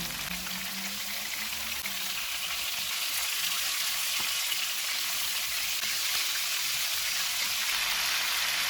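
Chicken tikka pieces fry in a pan over a medium flame, giving a steady, dense sizzle and crackle throughout, close and fairly loud, with no talking.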